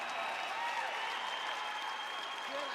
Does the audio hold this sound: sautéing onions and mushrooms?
no